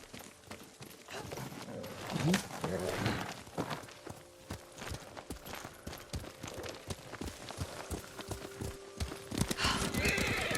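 Horse hooves clip-clop at a steady gallop in the Ghost of Tsushima video game, with a whinny near the start, under ongoing in-game voices and ambient wind.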